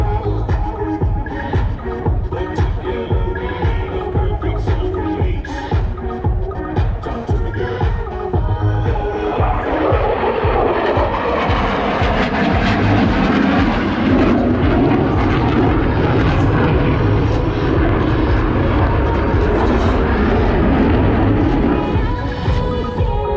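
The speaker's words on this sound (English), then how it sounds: "F-16 through a series of aileron rolls, demonstrating its exceptional roll maneuverability." An F-16 fighter jet flying aerobatic aileron-roll passes at an air show, a loud continuous roaring engine rush that swells and shifts in pitch as the jet passes, with no talking.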